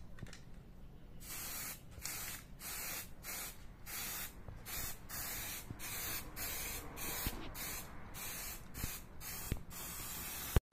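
A spray can puts gray primer onto a homemade dirt bike stand in a long run of close, steady hissing bursts, about sixteen of them, each separated by a brief gap.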